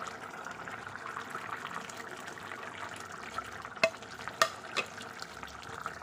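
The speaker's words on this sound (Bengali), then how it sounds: "এখন আমি বেগুনগুলোকেও দিয়ে দেবো।" Eggplant pieces go into a simmering hilsa fish curry: a quiet, steady bubbling sizzle with a few sharp clinks and clunks near the end.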